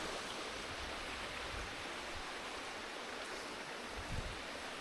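A stream rushes and flows steadily in a broad, even wash of noise, continuous and fairly close in a forest, with no voices.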